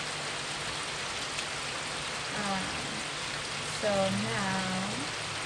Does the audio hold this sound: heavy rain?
yes